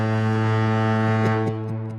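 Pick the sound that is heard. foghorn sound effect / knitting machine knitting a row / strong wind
foghorn sound effect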